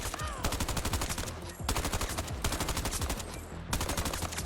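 AK5C assault rifle firing in Battlefield 2042, sustained full-auto bursts of rapid, evenly spaced shots, loud and close, broken by brief pauses between bursts.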